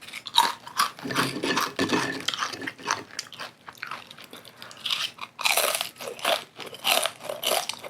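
Thick, crunchy fried tempeh chips are chewed close to the mic, with loud, repeated crisp crunches and bites in an uneven rhythm across several seconds, and no talking.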